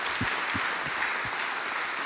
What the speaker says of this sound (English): So we thank them with another round of applause,